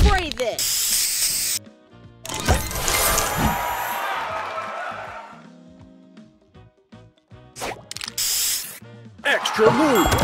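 Spray booster hissing in a match-3 game, with bursts of bright spray noise set among chimes, jingles and other game effects, and a cheerful game voice calling out in between.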